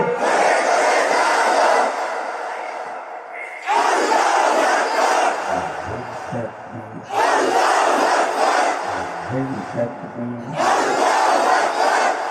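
Large crowd at a Bangla religious gathering bellowing a takbir battle-cry chant in three or four loud, roaring waves, each a few seconds long, with a pause of quieter voices and echoing talk between them.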